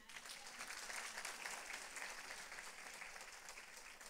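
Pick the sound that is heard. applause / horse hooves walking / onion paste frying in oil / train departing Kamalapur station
applause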